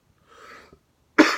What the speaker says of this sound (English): I'm so sorry about these coughs